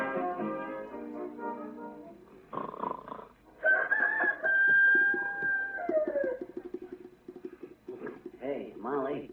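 A human voice imitating a rooster's crow on an old radio show, a drawn-out crowing call among spoken lines and other vocal sounds.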